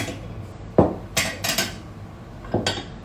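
Plates and cutlery are handled on a dining table laid for a formal meal, with a main course plate and side plate, giving a few sharp clinks and clatters scattered over a quiet room.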